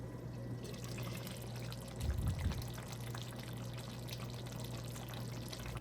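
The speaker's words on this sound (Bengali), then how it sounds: "এখন আমি এতে পরিমাণ মতন জল দিয়ে দেব।" Water is poured into a cooking pot in a home kitchen, a brief gush around the middle over a steady background hum, with no talking.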